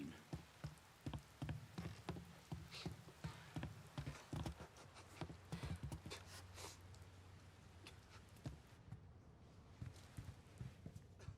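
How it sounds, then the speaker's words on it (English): Steady rain falling in the Mafia III video game world, a dense hiss with scattered drop patter and a rhythmic clip-clop of hooves or footsteps over it, easing slightly toward the end. "I never get tired of the rain."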